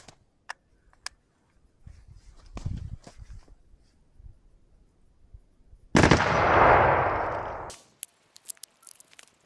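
A rifle fitted with a forced reset trigger lets off a single dense, loud burst of rapid fire lasting under two seconds, preceded by a few sharp isolated clicks and knocks, with brief clatter afterward.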